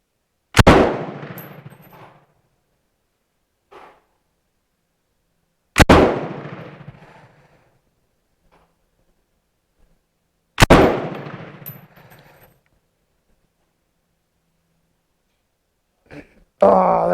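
A Bren MK2 machine gun on a firing line fires three loud, separate single shots about five seconds apart, each a sharp crack followed by a rolling echo, with a brief voice near the end.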